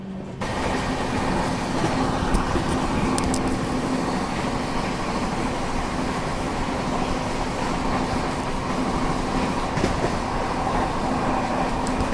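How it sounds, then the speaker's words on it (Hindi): The Vikramshila Express runs at speed on rails, heard from inside as a dense continuous rumble and roar with faint rhythmic clatter and a steady hum, no speech. "अब जाके ट्रेन जो है ना वो 130 बढ़िया से चल रही है।"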